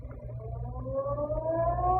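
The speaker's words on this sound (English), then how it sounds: "just as the ferry building siren was announcing 8 o'clock to downtown San Francisco" A ferry building siren in downtown San Francisco sounding the hour as a radio drama effect, a steady wailing tone that slowly rises in pitch over a low rumbling bed, fairly loud and alone for about two seconds.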